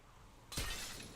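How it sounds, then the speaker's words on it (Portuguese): Glass shatters in GTA V FiveM, a sudden loud burst of breaking that starts after a quiet lead-in and rings on with debris for the rest of the moment. "já caiu quebrando o vidro"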